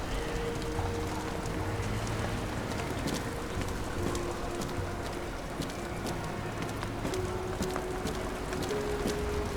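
Steady rain falls without a break across a neon-lit video game city, a dense continuous hiss with faint tonal hums threaded through it and no voices over it.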